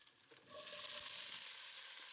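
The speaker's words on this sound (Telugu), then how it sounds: "హై ఫ్లేమ్లో కాలీఫ్లవర్ ఫ్రై చేసుకుంటే కనుక చాలా బాగుంటుంది" Cauliflower florets frying on a high flame in a pan, a soft stir and clatter at first, then a loud steady hiss of sizzling oil close by.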